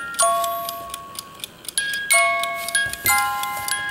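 A vintage Reuge musical alarm clock plays its mechanical tune, with bright plucked comb notes in a lilting melody, close and clear, with no talking.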